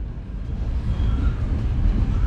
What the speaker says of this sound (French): Alors, c'est un train vraiment dans son jus.